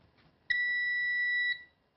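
A Seaward PrimeTest 250 appliance tester gives one steady electronic beep at power-on. The tone is bright and close, lasts about a second, and plays alone in an otherwise quiet room.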